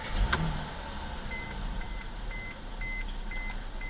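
A 2015 Mercedes GLK350 is started with a key: a short crank and catch near the start, then a quiet, low idle beneath a repeating chime from the dashboard.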